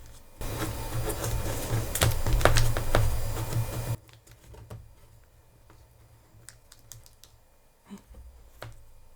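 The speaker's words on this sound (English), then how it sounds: "Let's see if I can just peel off the top layer of paper" Top paper layer peeled and torn off a small replica skateboard, a loud dense scratchy rip for about four seconds, then quieter scattered crackles and ticks.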